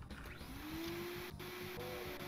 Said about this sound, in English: It's a vacuum cleaner.